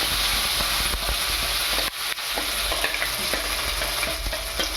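Mustard seeds and curry leaves sizzle and crackle in hot oil for kara chutney, a loud steady frying hiss with stirring scrapes and small pops throughout.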